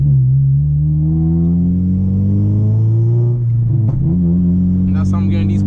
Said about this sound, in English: It's just literally a downpipe, full exhaust, and a tomb.